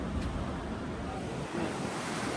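Sea waves roll onto the shore at Rameshwaram in a steady wash of surf, mixed with wind buffeting the microphone, and no one speaks.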